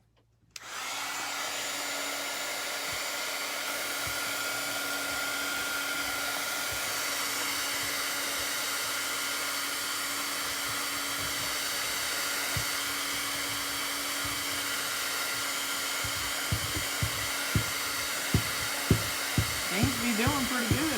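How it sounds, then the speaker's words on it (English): A heat gun blows on burlap for a frame craft, a steady loud whirring hum that starts abruptly and runs unbroken, with faint handling knocks toward the end. "let me see if I can lay it down with my heat gun a little bit"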